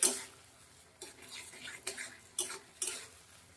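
Cauliflower gently stirred in a pan over medium gas heat for a cauliflower mash, giving a few soft scraping, clinking strokes of a spoon against the pan at irregular intervals, fairly close and quiet.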